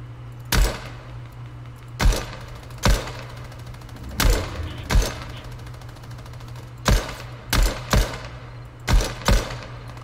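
Shotgun blasts in the video game Fortnite, about a dozen sharp, loud booming shots fired in irregular bursts over a steady low background hum.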